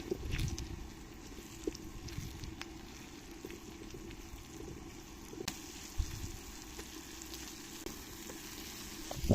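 Beaten egg and okra fry together in a pan, a faint, steady sizzle with soft stirring scrapes and light clicks, no talking.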